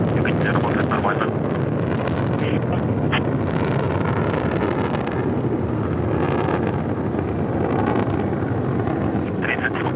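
Soyuz TMA-14M rocket lifting off on four boosters and a single core engine, a steady, loud, broadband roar with wind buffeting and continuous rumble, overlaid by a commentator's voice.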